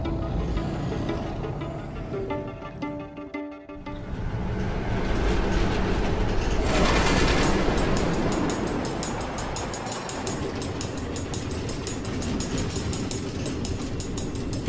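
A train runs along automated tracks through the Nether in the Minecraft Story Mode video game, rumbling steadily with a rhythmic clickety-clack of wheels that builds midway and stays loud and continuous, with no speech over it.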